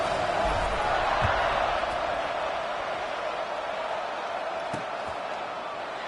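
A large crowd fills a stadium at a college football night game, JMU at Old Dominion, with a broad, steady roar that stays loud throughout. A commentator talks over it, and a few thumps stand out.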